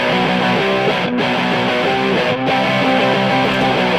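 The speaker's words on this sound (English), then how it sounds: "I know we used the Big Muff bass. That's where the distortion's coming from." Bass guitar run through a Big Muff distortion pedal plays a loud, fuzzy, sustained riff in the mix of a rock song, with note changes and brief breaks, and no talk over it.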